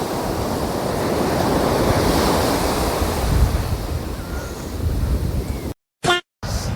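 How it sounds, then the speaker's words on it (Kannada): Ocean waves wash onto a beach in steady, continuous surf with wind buffeting the microphone. A brief dropout interrupts the sound near the end. "ಸೊ ಇದು ಬೀಚ್, ಅಲೆಗಳು ನೋಡ್ರಿ ಇಲ್ಲಿ ಹೆಂಗೆ ಬರತ್ತೋ"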